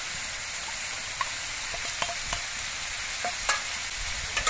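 Onion, garlic and ginger paste frying in a pan, a steady close sizzle broken by scattered scrapes of stirring, with no voices.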